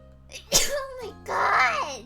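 A sharp burst of a sneeze, brief and close, followed by voiced talk or a groan right after it, indoors among people chatting during a game session.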